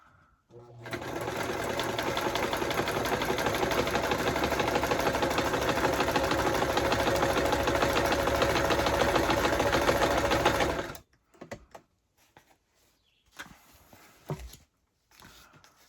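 Sewing machine stitching a zigzag seam on a fabric travel-kit lap book, a fast steady whirring run of about ten seconds that then stops, leaving faint handling noises and brief soft sounds.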